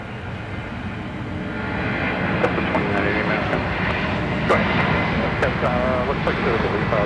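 A Delta heavy jet airliner departs Minneapolis–St. Paul airport, its engine roar building into a loud broad rumble that swells and holds, with radio chatter heard over it.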